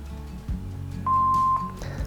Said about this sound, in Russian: говорите после гудка